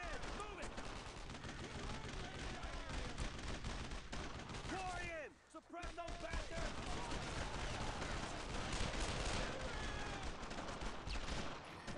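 Video game combat: continuous dense gunfire with scattered grenade blasts, loud throughout, with a brief lull midway before the shooting resumes.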